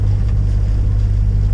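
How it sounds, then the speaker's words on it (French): A sailboat motoring under its engine on a passage along the Italian coast toward the port of Roccella Ionica, giving a loud, steady, close low drone with a constant hum and a wash of wind and water. "Donc pour l'instant on est au moteur"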